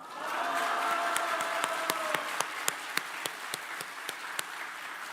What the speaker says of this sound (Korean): 여러분은 가장 기쁜 목소리로, 환호하는 목소리로 와 소리지고 영광의 박수를 우리 주께 올렸으면 좋겠습니다